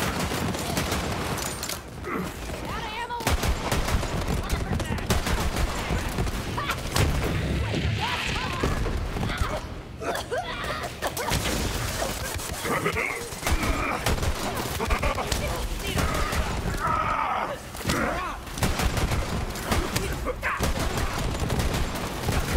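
Dense, relentless gunfire and booming explosions from the video game Borderlands 3 roll on without pause, loud and close, with occasional muffled voices buried under the barrage.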